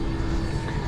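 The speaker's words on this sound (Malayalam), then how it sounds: "ഇതാണ് ഫ്ലൈറ്റ്." Inside a small passenger plane flying from Mount Hagen to Port Moresby in Papua New Guinea, the engine keeps up a steady, loud low roar throughout the brief moment, with no talking.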